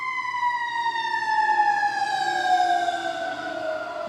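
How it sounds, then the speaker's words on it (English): Fire engine siren sweeping past, a steady wailing tone with strong harmonics that slowly drops in pitch, loud and close throughout with no talk over it. "Oh, I got some sirens getting ready to fly by here."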